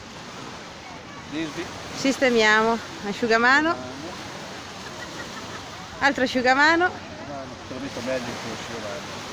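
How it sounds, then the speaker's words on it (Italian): Steady surf washes onto a sunny beach as a constant broadband rush, while people talk intermittently close by over the sea noise. "Ecco il mare, eccoci adesso"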